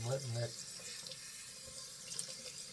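A shaving brush is rinsed under a running tap, a soft, steady trickle of water at close range after a brief bit of speech at the start.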